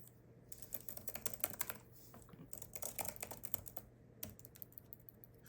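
Rapid clicky typing on a mechanical-feeling keyboard made for an iPad, a close run of crisp keystrokes with a brief pause near the middle before the typing resumes.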